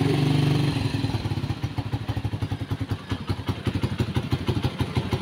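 SYM Euro 150 motorcycle engine starting on one click, a brief whir of the starter giving way to a close, rhythmic thumping idle pulse that keeps running steadily.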